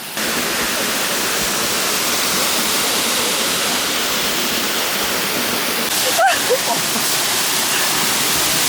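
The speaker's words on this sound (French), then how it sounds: "On est à la cascade." Steady, loud broadband roar of a waterfall in the outdoors, constant throughout with a faint brief voice near the end.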